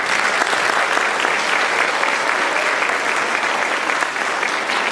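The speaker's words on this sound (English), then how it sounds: "They deserve a round of applause." Steady, dense audience applause fills a school concert hall, many hands clapping together at an even, sustained level with no break.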